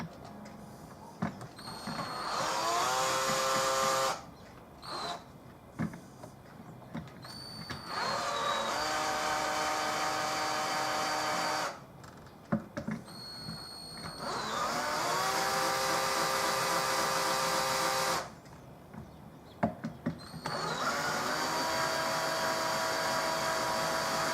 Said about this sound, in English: Cordless drill with string changing bits on it.